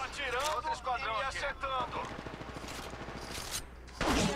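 In the mobile shooter game Apex Legends Mobile, a player talks briefly, then rapid bursts of gunfire crackle in quick succession before another short loud sound at the end.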